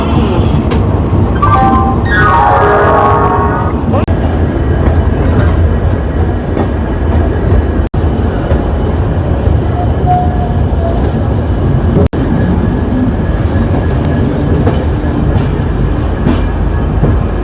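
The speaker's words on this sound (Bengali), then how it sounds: "আমাদের ট্রেনের ডিপার্চার হয়ে গেছে অন টাইম 11:45-এ প্ল্যাটফর্ম নম্বর 23 থেকে।" A long-distance train on the Kolkata to Chennai route pulls away from the platform and keeps running, its loud continuous rumble and clatter steady throughout, with a brief high squeal of wheels early on and no talking.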